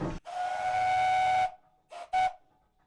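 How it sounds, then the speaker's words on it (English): A steam donkey whistle blowing: one long steady blast, then two short toots after a pause, loud and clear with no talk. "It carries a variety of whistles on it"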